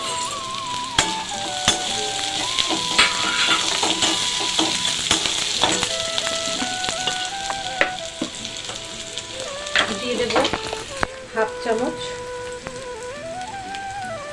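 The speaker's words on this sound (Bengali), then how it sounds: "আগে আমি তেলের মধ্যে দেব স্টার এলাচ গোটা গরম মশলা আর গোলমরিচ" Whole star anise, cardamom, garam masala and peppercorns sizzle steadily in hot oil for egg biryani, a dense crackling fry with occasional sharper pops and faint utensil tones running throughout.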